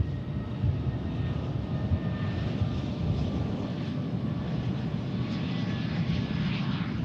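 A fixed-wing aircraft's engines at Tucson International Airport roar in a steady, loud, broadband drone that holds evenly throughout with no pauses, heard alone without talk.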